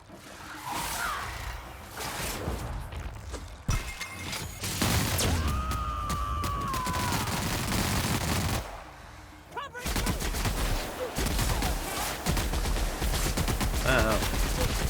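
Rapid gunfire from a firefight in the video game The Outer Worlds, dense bursts running loud through most of the stretch, broken by a brief lull, with someone talking over it.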